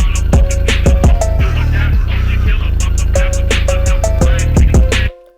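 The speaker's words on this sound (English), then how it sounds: "in the middle of the hook, you're gonna have this little dropout that's gonna sound like this" Phonk beat hook with heavy sub bass, punchy drums and a melodic lead, cutting out briefly mid-hook in a short dropout, then the full mix returning before stopping abruptly into silence; loud and up front with no voices.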